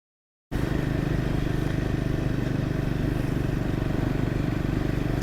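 Triumph motorcycle ridden on the road, its engine droning steadily and close with a dense low rumble that starts suddenly and holds constant to the end, overlaid with wind rush and no voices.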